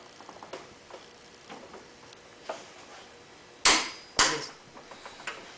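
A torque wrench tightening a bolt to 88 foot-pounds during a timing belt job on a Ford Zetec engine. Two sharp, loud clicks come close together mid-clip, with faint ticks and taps around them.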